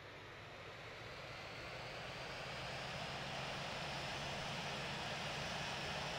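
Steady broadband jet engine hum of a CRJ-700 airliner during pushback in the Infinite Flight flight simulator, a constant, fairly loud whine and roar with no talk over it.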